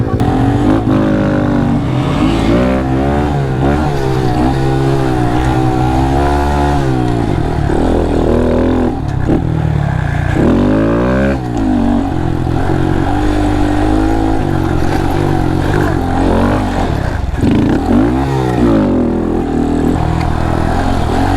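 A Honda Monkey 125 motorcycle ridden around a race track at the 2023 Barber Small Bore event, its engine loud and close, with repeated revs rising and falling through gear changes and no talking.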